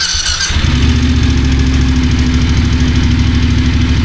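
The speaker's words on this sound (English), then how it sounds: "you'll have to excuse the engine noise, guys." A Voge DSX 900 motorcycle engine idles close by, a steady low throbbing rumble that starts abruptly and holds an even pulse throughout.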